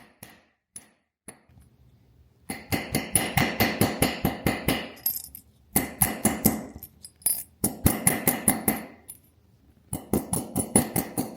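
Rapid, steady hammer blows on an annealed gold bar, a few scattered taps and then long runs of sharp metallic strikes broken by short pauses, close and clear with no talking.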